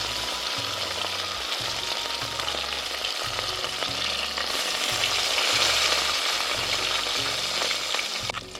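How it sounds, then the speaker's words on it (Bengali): Fish fry one by one in a hot kadai, giving a steady, close crackling sizzle that holds throughout. Low background music runs underneath. "এর মধ্যে আমি এক এক করে মাছগুলো দিয়ে ভেজে নেব।"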